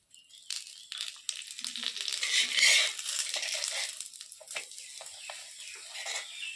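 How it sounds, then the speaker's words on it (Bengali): Kheer parathas fry in ghee on a hot pan, with a bright, crackling, hissing sizzle that swells in the middle and then settles, close and fairly quiet, with no talking. "এবার আমি ঘি দিয়ে পরোটাগুলোকে ভেজে নেবো ভালো করে।"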